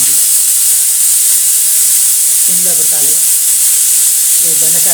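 Okra sizzles in a hot pan as a steady, even frying hiss for the whole stretch, with a voice briefly speaking over it a couple of times.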